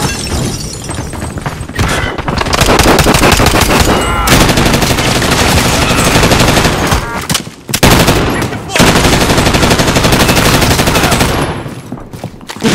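Heavy automatic gunfire in the video game Call of Duty: Modern Warfare: loud, dense bursts roar almost without pause, with brief breaks and crackling impacts, while faint voices sit underneath.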